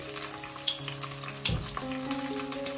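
Onions being stirred and fried in a pan for Bangladeshi beef bhuna, a close sizzle with a few sharp scrapes and knocks of the spoon over a short stretch, no talking.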